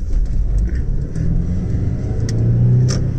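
A car driving along a quiet street in Corinth, Greece, its engine rumbling and revving steadily nearby for the whole stretch, with no talk.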